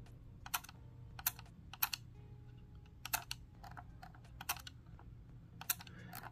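Sharp, distinct clicks from the clutch button on a Razer Basilisk Ultimate mouse, pressed repeatedly in an irregular rhythm of single and double clicks, close and clear over a low background hum.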